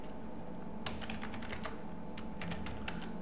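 Someone types a terminal command on a computer keyboard, with scattered light key clicks in short bursts over a steady background hum, close up and without speech.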